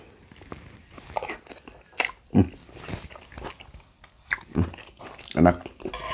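Someone eating lontong padang in spicy gulai sauce, with wet chewing and soft bites close to the mic in irregular bursts between quiet stretches, with speech nearby.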